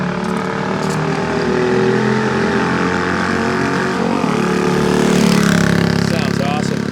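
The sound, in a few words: 1968 Harley-Davidson 250 Sprint motorcycle engine running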